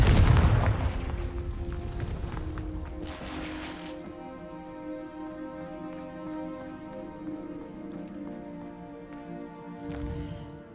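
A Confringo fire spell explodes in Hogwarts Legacy, a loud booming blast at the start that rumbles and trails off into a sustained tonal game soundscape, with a smaller burst near the end.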